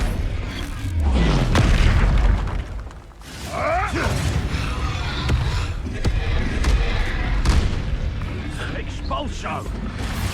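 Repeated Expulso spell blasts in Hogwarts Legacy, booming crashes and rumbling debris with clattering impacts, loud and close, with voices in the game scene between them.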